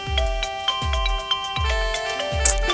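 A mobile phone ringtone plays in a repeating electronic melody, four bright chiming phrases with steady tones beneath, loud and close with no talking over it.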